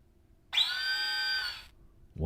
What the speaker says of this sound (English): drill easily breaks through the seal of the panel